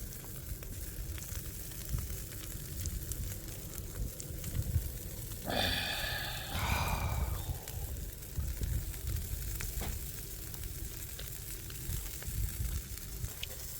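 Sand lance and mackerel grilling over a charcoal fire, with a steady close sizzle and crackle throughout and a brief louder hiss partway through.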